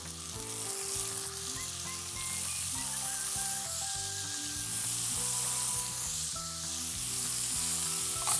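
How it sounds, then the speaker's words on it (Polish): Scallops sizzle in hot olive oil in a pan, a loud, continuous crackling fry with small pops throughout and no talking. "Strzela, skwierczy"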